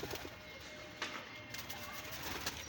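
Several pigeons coo softly in a short burst, their low throaty calls repeating over a rustly background with a few sharp knocks and flutters nearby.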